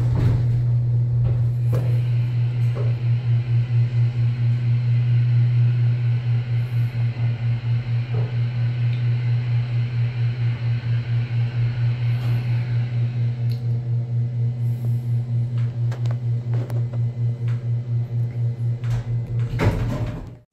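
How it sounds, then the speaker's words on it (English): Early-1980s Notice lift with Series 1 fixtures riding, a steady low motor hum and rumble throughout with faint clicks and rattles, ending in a short clunk at the stop. "The second lift is a Notice lift from the early 80s with Series 1 fixtures."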